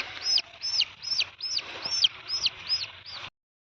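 A young chicken chick, just rescued from a heron, chirps in a steady series of about eight sharp, high peeps, evenly spaced and fairly faint.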